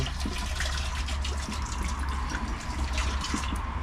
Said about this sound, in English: And we're gonna do a cup of vinegar, the natural apple cider vinegar